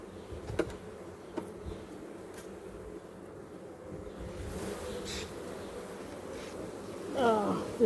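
A healthy honeybee colony hums in a steady drone from an open hive, close and continuous, with occasional faint clicks and quiet handling noises.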